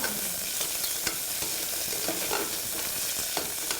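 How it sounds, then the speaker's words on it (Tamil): Carrots and green peas sauté in a pan for veg dum biryani, a steady close sizzle broken by scraping stirs and light clicks of the spoon, with no talking. "இப்போது நல்ல கேரட்டும் பச்சை பட்டாணி எல்லாமே அழகாக வதங்கிட்டுருக்கு"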